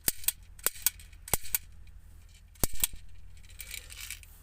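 Toy gel ball blaster firing, a series of sharp, faint snapping shots in irregular bursts with short pauses between them, heard alone.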